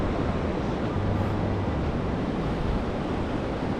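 Ocean surf rolls in at El Cuco beach in El Salvador, a dangerous swimming spot, as a continuous loud wash of breaking waves mixed with wind rumble, steady throughout with no voices.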